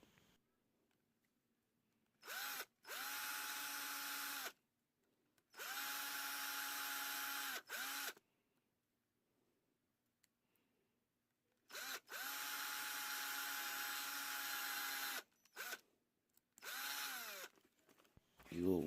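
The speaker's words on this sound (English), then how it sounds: "Moving on to drilling out the third tab's 4 divoted connection on the third" A power drill boring out the spot-welded tab connections on a battery cell runs in several sustained bursts of a few seconds each, with quiet gaps between them, close and loud.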